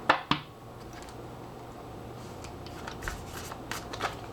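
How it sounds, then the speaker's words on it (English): A deck of tarot cards being shuffled by hand, a couple of crisp riffles at the start followed by softer continuous sliding and flicking, close and fairly quiet, with no talking. "So I'm shuffling."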